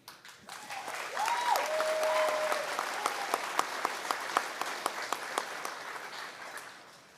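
Audience applause at a high school Grand March ceremony in a gym, a steady crowd clapping that swells and then fades away, with a few sharper claps standing out.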